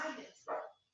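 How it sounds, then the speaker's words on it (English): Pet dogs bark twice in a house after a doorbell rings, two quick, faint barks nearby. "My dogs are going to go crazy because the doorbell just went off."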